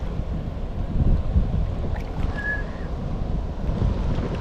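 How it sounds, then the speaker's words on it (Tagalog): Strong wind by a riverside buffets the microphone in a loud, continuous low roar that swells and eases, with a faint brief tone in the middle and no talking. "Lakas ng hangin."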